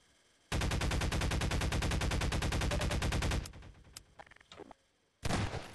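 Rapid gunfire in Half-Life 2 co-op multiplayer, a fast dense burst of repeated shots lasting about three seconds, then a few scattered clicks and a final loud blast, close and loud.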